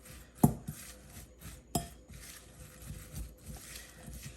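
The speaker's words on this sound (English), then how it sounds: "give that a mix. Mix with a fork." A fork clinks and scrapes in a bowl while coleslaw is mixed with dressing, two sharp taps followed by soft, irregular stirring and scraping, quiet and close.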